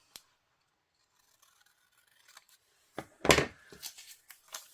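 Scissors trimming white edges off paper for a Christmas craft, with a few faint snips at first, then a louder burst of cutting and crinkling paper, close up and with no talking.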